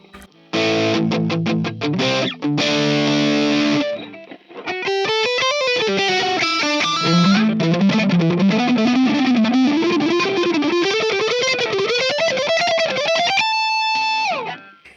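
Heavily distorted electric guitar on the high-gain second channel of a Randall RM100 MTS amp, no effects, a few chunky chords followed by fast, continuous lead runs climbing up, loud and close.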